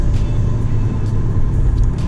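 A 2016 Nissan 370Z with a manual transmission being driven, its engine and road rumble a loud, steady low drone heard from inside the cabin.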